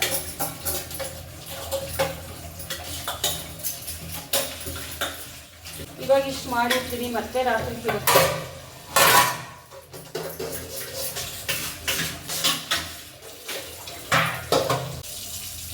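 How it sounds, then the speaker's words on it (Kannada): Pots and dishes washed in a kitchen sink under a running tap, with steady water splashing and scattered clinks and clatters of utensils throughout, while someone talks briefly partway through. "ಇವಾಗ ಪಾತ್ರೆ ಎಲ್ಲ ತೊಳೆದಾಯಿತು"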